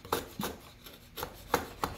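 Chisel paring and cleaning up a wooden workpiece, with five short scraping strokes spaced irregularly, close and fairly quiet.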